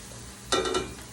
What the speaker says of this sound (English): I'm just going to kind of stir this up